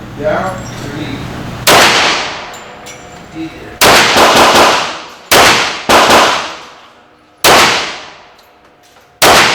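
Hot rounds fired from a Rock Island Armory 10mm 1911 pistol at a range crack out as loud, sharp shots at irregular intervals, six blasts each trailing off in ringing echo, with faint voices in the gaps.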